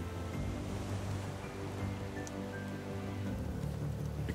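Rain falls during a session of the survival game Raft, a soft, even patter with a low ocean wash beneath it, steady and fairly faint throughout.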